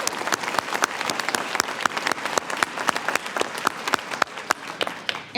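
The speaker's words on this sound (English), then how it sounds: "join me in a round of applause for the whole Student Affairs and Admissions team" An audience at a medical school Match Day event applauds with many distinct, crisp hand claps in an irregular, lively patter, fairly near and sustained throughout.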